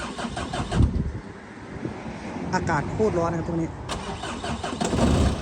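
A pickup truck engine cranks and catches outdoors in hot weather, settling into a medium idle with wind buffeting the microphone while someone talks over it.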